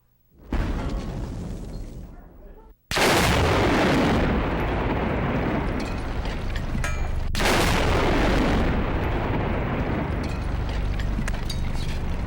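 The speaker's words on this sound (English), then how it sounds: "The sound of the blast will take 4 seconds to reach the bunker." A large explosion blast, a nuclear-style test detonation observed from a bunker, arrives as a loud sudden roar that holds steady for several seconds, with a sharper second surge partway through, after a brief earlier rumble.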